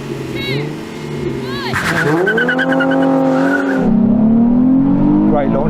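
A Nissan Z 400Z launches from a standstill, its tires squealing in rising and sliding pitched whines as the engine revs and pulls hard up close, with a voice speaking briefly.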